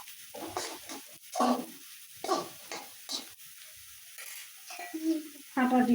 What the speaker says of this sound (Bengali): এখন ডিম দিয়ে দিব